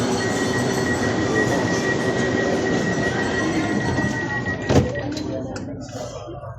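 Train running on rails, heard from aboard as a loud, steady rumble with a high wheel squeal and a brief louder clank near the end.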